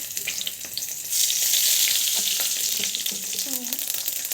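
Garlic drops into hot oil for a beetroot rasam, and after a second the close sizzle swells into a loud, sustained crackling hiss with a few faint stirring scrapes.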